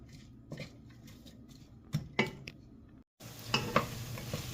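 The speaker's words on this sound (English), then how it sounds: "we're going to add in chopped onion. We're going to cook this until translucent." Chopped onion cooks in hot olive oil with a soft steady sizzle and a few light scrapes and stirring clicks from the pan, faint and close, with no talking.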